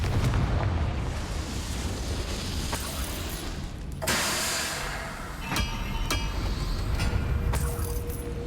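Fiery Confringo spell blasts in the Hogwarts Legacy video game, a dense rumbling roar with several sharp bursts at irregular intervals, loud and close, with no talk.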